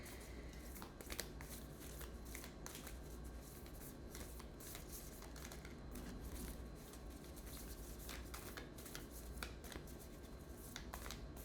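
Tarot cards being shuffled in continuous soft riffling and rubbing bursts, quiet and close, with occasional sharper snaps, no voice over them.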